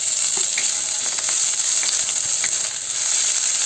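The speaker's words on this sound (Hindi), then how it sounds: "प्याज के भूज लेबै।" Onions fry in a pan for poha, a loud, close, continuous sizzle with crackling pops scattered throughout.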